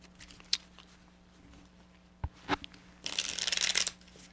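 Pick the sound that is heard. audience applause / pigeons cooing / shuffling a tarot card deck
shuffling a tarot card deck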